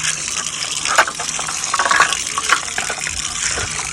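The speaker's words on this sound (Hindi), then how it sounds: "सबसे पहले जो है तवा लेकर आई हूँ, मैंने कहा इसको ना धो लूँ, क्योंकि मिट्टी वगैरह इसके ऊपर है।" Running tap water gushing over a tawa griddle while it is washed clean of dirt, a loud, continuous splashing stream with occasional knocks and clatters of the pan.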